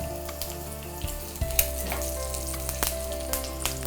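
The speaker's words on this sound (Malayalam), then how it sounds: "കടുക് പൊട്ടി തുടങ്ങി" Mustard seeds, dried red chillies and curry leaves sputter and sizzle in hot oil for a semiya upma tempering, with steady frying hiss, sharp popping crackles and a faint stirring scrape, close and without speech.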